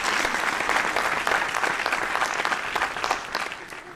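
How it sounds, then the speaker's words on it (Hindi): Loud, dense audience applause at the closing of the Sikhlens India 2024 festival, steady clapping from a large crowd throughout with no break. "तो एक जोरदार तालियां आप सभी के लिए बनती हैं"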